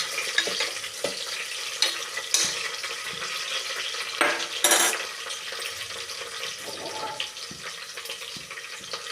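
Onions fry in a pan with a continuous close sizzle, broken by a few louder scraping bursts of stirring.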